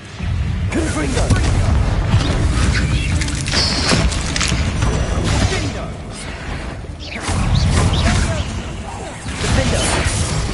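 Confringo blasting spell explosions in Hogwarts Legacy, heavy booming bursts with whooshing spell effects and crashing debris, loud and layered over game sounds with speech at times.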